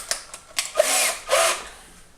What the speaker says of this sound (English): So I'm going to try to drill this nut here without making my hole any bigger here.